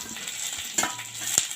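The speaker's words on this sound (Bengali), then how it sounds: "এবারে ক্যাপসিকাম আর বড় করে যে পেঁয়াজটা কেটে রেখেছি সেটা দিয়ে দিচ্ছি" Capsicum and large-cut onion pieces go into a pan of lightly fried onion and garlic for egg chilli, giving a short sizzle with a couple of sharp utensil clicks.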